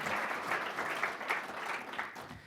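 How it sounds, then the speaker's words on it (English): An award ceremony audience applauding steadily, a dense patter of clapping that stays even throughout before tapering slightly at the end. "So just a little round of applause for those two from the New York Athletic Club."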